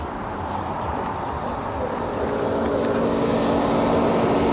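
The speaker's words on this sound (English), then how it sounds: "So that takes 3 kilowatts currently to cool the battery." Battery cooling system of a VW ID.4 GTX (77 kWh, 2021) running while charging, a steady broadband whoosh of fan and pump noise that swells slightly, with a low tonal hum emerging partway through.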